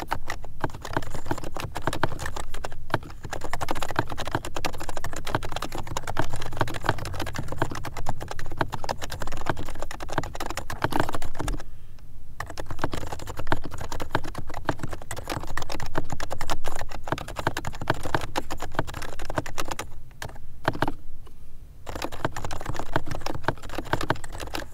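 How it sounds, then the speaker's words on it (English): Steady, fast typing on an HHKB Hybrid S keyboard, a soft, smooth-feeling compact board, producing dense muted key clatter close up, with a couple of brief pauses and no talking. "This is an HHKB Hybrid S."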